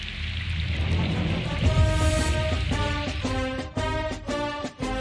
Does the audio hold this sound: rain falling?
yes